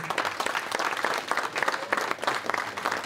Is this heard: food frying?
no